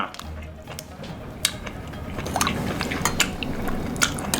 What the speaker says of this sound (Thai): แล้วตักน้ำซุปก่อน